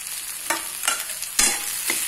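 Onions frying in a pan for kande pohe as salt and turmeric go in, with a steady soft sizzle and a few distinct stirring scrapes of a spoon against the pan, close and alone.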